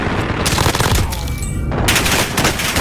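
Loud, close automatic gunfire in a Call of Duty: Modern Warfare match, rapid continuous bursts with a short gap midway before the shooting resumes.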